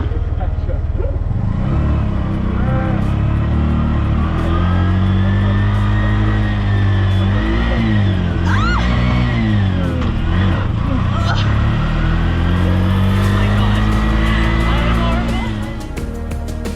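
A tuk-tuk circles a roundabout in the seaside town of Tenby, Pembrokeshire, with a continuous close engine drone that rises and falls as it steers through the turn.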